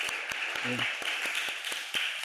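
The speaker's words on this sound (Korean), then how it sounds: "성도님들을 향해서 감사합니다 의미로 또 박수를 보내겠습니다" A church congregation applauds in a steady wash of clapping, with a few sharper claps standing out and a brief voice underneath.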